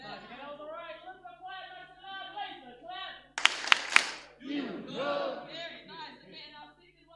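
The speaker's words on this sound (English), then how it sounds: "when I say laser clap, I need you to clap 3 times like this." Three sharp, loud claps from a crowd doing a laser clap at an awards event, quick and evenly spaced in the middle, with someone speaking before and crowd voices after.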